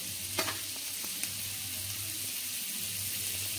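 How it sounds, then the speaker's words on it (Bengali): Seven or eight cloves of finely chopped garlic dropped into melted butter in a pan, giving a soft, steady sizzle with a couple of faint stirring clinks, quiet and alone. "সেই রসুনটাকে আমি দিয়ে দিচ্ছি বাটারের মধ্যে"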